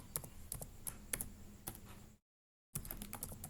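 Input values get typed on a computer keyboard in MATLAB, sparse light key clicks tapping at an irregular pace, quiet and close, with a short dead gap midway.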